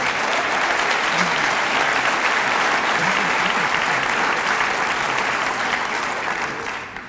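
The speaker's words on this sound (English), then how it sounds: "We can clap for Lynn." Audience applause at an awards night, loud sustained clapping from a large crowd that stays full and even before tapering off at the end.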